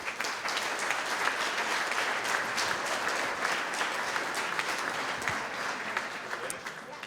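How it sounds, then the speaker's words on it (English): A banquet audience at a golf course gives a full round of applause, with dense, continuous clapping that stays loud and even throughout. "A round of applause."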